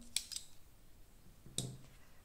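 Two short, crisp snips of scissors trimming excess crochet yarn on a small handmade cherry blossom hair clip, quiet and close in an otherwise hushed room.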